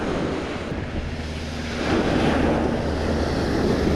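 Ocean waves wash in at the edge of the surf on Miami Beach, a steady broadband roar that swells louder partway through, with wind buffeting the microphone and a low rumble underneath.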